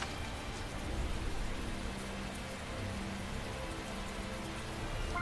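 Steady rain in the video game Tales of Zestiria, a soft, even hiss that stays constant and faint throughout, with no voices.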